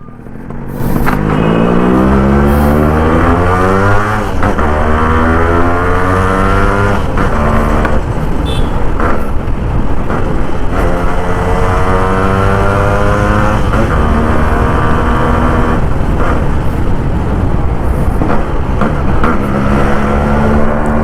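A restored Yamaha RX135 two-stroke motorcycle engine revs loudly and continuously for about twenty seconds, pitch rising and falling through repeated throttle blips, close to the listener with no talking over it.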